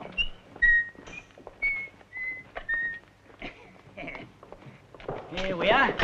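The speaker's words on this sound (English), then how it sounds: "What's the name of him you're whistling?" A person whistles a short tune in a film scene, a few bright clear notes near the start, followed by footsteps and rustling with a louder burst of noise at the end.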